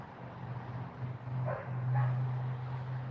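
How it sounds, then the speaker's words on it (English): A dog barks outside a house, two short muffled woofs around the middle, heard from inside a shed over a steady low hum. "Dog sounded like it was right outside the house."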